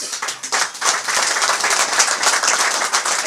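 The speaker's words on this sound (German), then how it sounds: "Applaus!" An audience at a carnival talk show bursts into steady, dense applause, close and loud with many hands clapping throughout, without talk over it.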